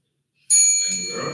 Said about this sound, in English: you will hear the ding of a bell